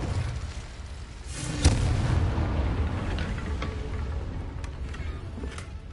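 A Confringo fire spell explosion in the Hogwarts Legacy video game, a muffled boom that swells over a steady rumbling game background, followed by lighter crackles, moderately loud with no talk.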